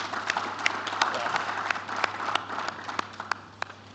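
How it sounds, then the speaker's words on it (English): A round of applause from a conference audience at an African policy plenary, a soft steady patter of many hands with a few sharper claps standing out, heard over a low hum in a large hall. "A round of applause."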